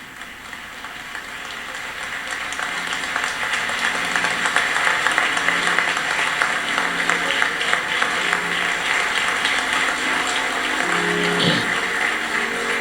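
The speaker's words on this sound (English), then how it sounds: "Please give a great round of applause for the Reverend Al Sharpton" A large crowd applauds Reverend Al Sharpton at the June 2020 George Floyd memorial in Minneapolis, the clapping swelling into a dense, rain-like roar that holds steady, with a brief voice near the end.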